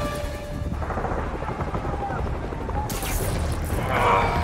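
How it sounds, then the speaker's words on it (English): Helicopter rotor chop in Marvel's Spider-Man as a chopper is stolen, a steady loud thrum mixed with bursts of game gunfire and effects, with voices talking over it. "Stealing a chopper."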